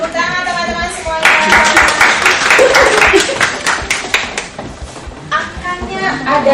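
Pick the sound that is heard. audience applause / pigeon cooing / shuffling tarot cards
audience applause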